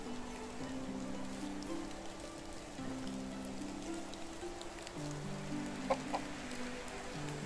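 Chickens cluck near a farmyard henhouse in the medieval life-sim game Medieval Dynasty, short clucks recurring over a steady ambient game background with faint patter like rain.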